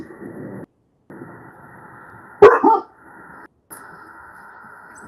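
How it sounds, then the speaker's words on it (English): A single dog lets out a short, sharp double bark at close range, standing out against a quiet room with faint background hum. "Sorry, I have 6 dogs."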